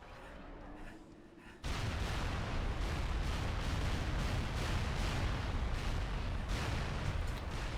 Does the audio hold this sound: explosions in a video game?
yes